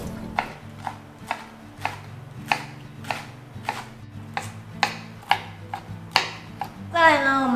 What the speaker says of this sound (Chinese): 高丽菜的部分呢，我们就把它切成丝